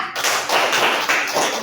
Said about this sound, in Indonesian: beri tepuk tangan dulu kepada kelompok 3